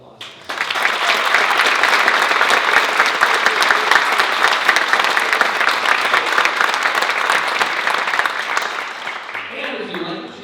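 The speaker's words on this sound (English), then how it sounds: "Let's give them a round of applause." Sustained audience applause fills a hall at a county youth awards ceremony, loud and steady for about nine seconds before tapering off, with a few voices mixed in at the end.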